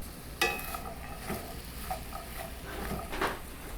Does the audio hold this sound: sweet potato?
yes